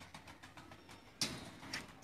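Pigeons cooing in soft, repeated calls, fairly faint at first, with a louder burst partway through over quiet background.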